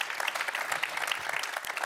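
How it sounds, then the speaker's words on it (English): Dense audience applause at a hockey league draw event, steady and continuous for a couple of seconds. "Can we have one more round of applause for Monica and Jürgen?"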